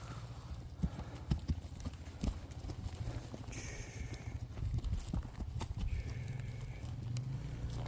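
Horse hooves clip-clop steadily on hard ground, close and clear, with faint animal sounds and background noise.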